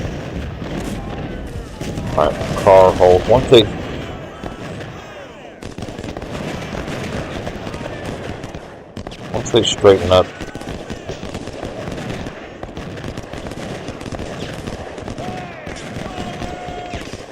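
Continuous musket volleys and booming cannon fire from a Civil War battle in the Ultimate General Civil War video game, dense and steady throughout with louder bursts, while someone talks over it.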